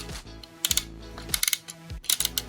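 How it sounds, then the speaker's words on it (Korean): Ratchet arm joints on a toy robot car figure click in quick bursts of sharp, close ratcheting ticks, three or four clusters across a couple of seconds, with small mechanical clatter between them. "팔은 보시면 아시겠지만 라쳇 관절입니다"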